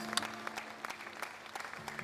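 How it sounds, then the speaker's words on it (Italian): An outdoor evening show crowd in Piazza Manzoni, Jesolo, gives scattered, modest applause for the Hotel Dolce Vita. The claps are fairly faint and patchy, with a faint tone in the background. "fate un applauso anche all'Hotel Dolce Vita"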